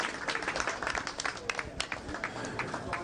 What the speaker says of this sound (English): We can have a cheer.